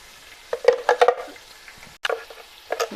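Ground browned onion and tomato fry in a pan with garlic and ginger, giving bursts of sizzling and stirring scrapes in two short clusters separated by quieter bubbling.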